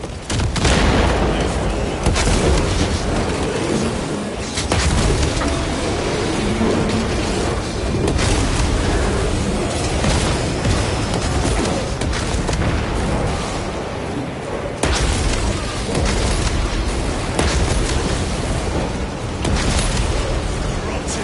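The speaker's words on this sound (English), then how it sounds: "Priming crack grenade!" Crack grenade detonations in Warhammer 40,000: Space Marine 2 during a Terminator hold with no cover, a dense, continuous barrage of booms and gunfire rumbling loudly throughout without pause.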